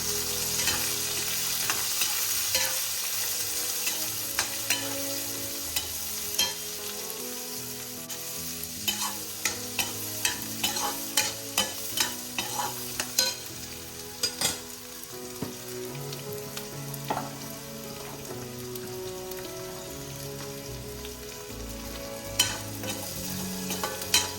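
Boiled chickpeas being stirred into fried, lightly browned dal in a pan for chickpea sundal, with steady sizzling and frequent sharp scraping clicks of the spoon against the pan, no talking.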